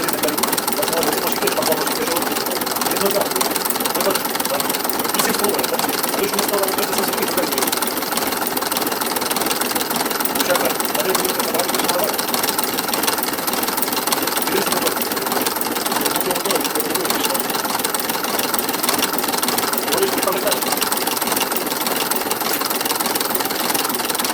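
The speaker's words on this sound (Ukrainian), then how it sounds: "Зараз провіримо, на яких обертах е, насос відсікає паливо." A Delphi Perkins rotary diesel fuel injection pump runs steadily on a test bench, giving a continuous mechanical whir and clatter at constant loudness throughout, with no talk over it.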